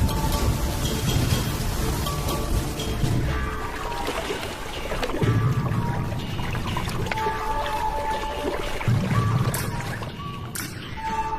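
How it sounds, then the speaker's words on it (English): Steady rain patters throughout, a continuous wash of drops with a few louder splashes near the end. "The first real rains for a year."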